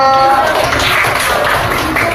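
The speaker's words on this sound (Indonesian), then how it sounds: "tepuk tangan untuk kelompok 1" A class gives applause for group 1, a dense, continuous wash of many hands clapping at once, loud and close throughout, with a voice faintly underneath at the start.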